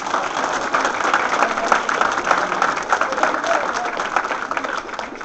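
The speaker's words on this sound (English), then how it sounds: "Let's give them a big round of applause." Steady applause from a crowd of spectators after a competition, dense clapping that holds at an even level throughout with a faint murmur of voices underneath.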